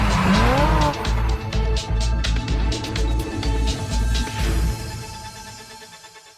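A Fiat Uno Turbo i.e. MK1 drives hard with its engine roaring up close while the tires squeal and skid, then the noise fades away toward the end.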